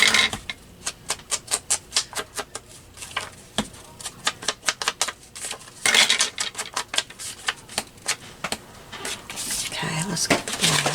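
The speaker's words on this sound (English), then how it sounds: "I gotta cut a sliver of the black." Quick rhythmic snips and clicks of cutting a thin strip of black paper for scrapbooking repeat in bursts at close range, with soft rustling between cuts.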